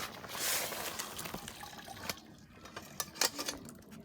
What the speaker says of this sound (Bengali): উঠায় ফেলতে হবে, উঠায় ফেলে পানি ঝরাই নিতে হবে।